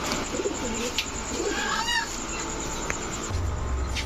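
Giribaz, Lahori and racer pigeons give soft, low cooing, mixed with faint bird chirps and background noise, fairly close.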